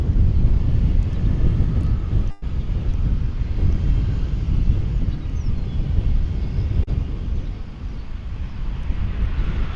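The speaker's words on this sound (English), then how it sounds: "Coming in overhead is an American Eagle flight coming in from Lafayette, Louisiana" An American Eagle regional airliner flies overhead at DFW Airport, a loud broadband engine roar with heavy gusting wind buffeting the microphone throughout.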